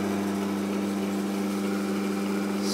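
An electric meat grinder motor converted from 110 to 220 volts hums steadily with a faint, even whine that holds for a couple of seconds without variation.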